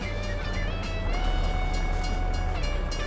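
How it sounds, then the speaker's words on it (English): Train in the Farming Simulator 22 video game rumbling past with a steady, loud low drone and tonal wheel squeal, a continuous nearby pass with no talking over it. "here comes the train"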